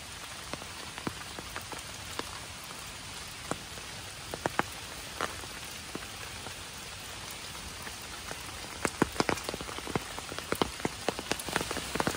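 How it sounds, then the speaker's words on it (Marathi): Steady rain pattering outdoors beside a flood-scoured stream bank, a continuous close wash of drops with scattered sharper individual hits, no voices. "पाऊस चालूच आहे."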